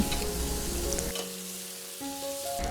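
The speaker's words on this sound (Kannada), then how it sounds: "ಎರಡರಿಂದ ಮೂರು ಹಸಿಮೆಣ್ಸಿನ್ಕಾಯಿ ಹಾಗೂ ಒನ್ ಟೇಬಲ್ ಸ್ಪೂನಷ್ಟು ಶುಂಠಿ ಬೆಳ್ಳುಳ್ಳಿ ಪೇಸ್ಟು ಹಾಕ್ಕೊಂಡು ಶುಂಠಿ ಬೆಳ್ಳುಳ್ಳಿ ಪೇಸ್ಟಿನ ಹಸಿ ವಾಸನೆ ಹೋಗುವವರೆಗೂ ಚೆನ್ನಾಗಿ ಬಡಿಸ್ಕೊಳ್ಳಿ" Green chilies and ginger-garlic paste fry in a pan with a steady close sizzle and stirring scrapes, the hiss dropping away briefly then returning, with no voices.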